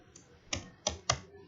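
Three or four quiet, crisp keystrokes clack on a computer keyboard while text is typed, close and alone in a still room.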